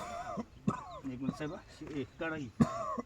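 Two short, sharp coughs break through close-up talking, one early and one near the end.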